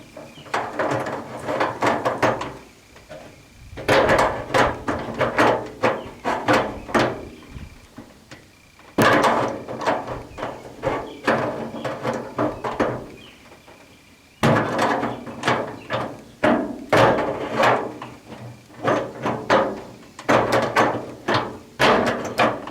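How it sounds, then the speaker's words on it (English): Adjustable wrench working on the trunk lock nut of an MGB, giving clustered metallic clicks, knocks and scrapes in close bursts separated by brief pauses, with no voices. "get the adjustable wrench on there and get a grip on it and then give it a twist"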